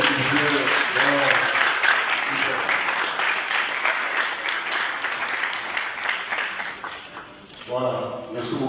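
A room of attendees at a community café meeting claps for a speaker in a loud, steady round that softens toward the end, when a voice begins speaking.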